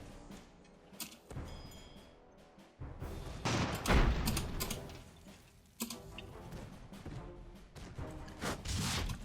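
Rockets strike an airship in the strategy game Airships: Conquer the Skies, a run of sharp impacts and crackling bursts over a mechanical clatter, loudest midway and recurring in clusters.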